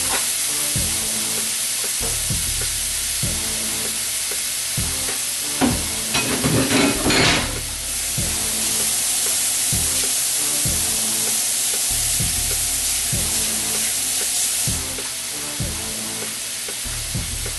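Steak with steak seasoning and garlic sizzles over medium heat, a loud continuous frying hiss with regular stirring knocks and a brief burst of scraping partway through.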